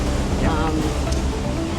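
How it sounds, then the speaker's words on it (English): Surf breaking on shallows off the starboard side of a sailboat crossing Queensland's Wide Bay Bar in a 3 m swell, a steady broad wash of water with wind noise over the microphone, loud and continuous. "there's a fair bit of surf break on our starboard"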